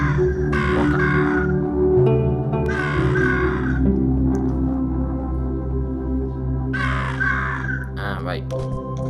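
Crows cawing in the mobile video game Monument Valley, three bursts of loud nearby caws spaced a few seconds apart over a steady droning game soundtrack.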